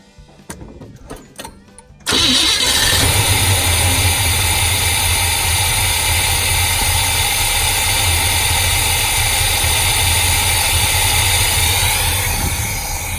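A farm truck engine cranks with a few clicks and then catches, settling into a loud, steady idle that rumbles continuously close by.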